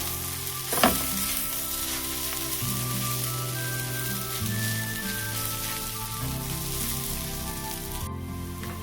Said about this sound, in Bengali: দিয়ে এটাকে আমি ভালো করে নেড়ে নেব।